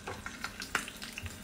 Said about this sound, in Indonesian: Ni goreng ikan masin.